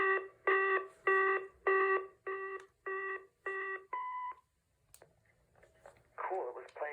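An early-1990s AT&T 1506 cassette answering machine sounds its wait tone before recording: eight loud, evenly spaced electronic beeps, then one longer lower beep, followed by faint rustle and a brief burst of voice.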